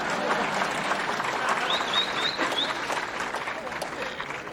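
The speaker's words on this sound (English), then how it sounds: "You're supposed to clap." Sustained applause from an audience at a township state-of-the-town address, steady and fairly loud throughout with a faint voice mixed in the background.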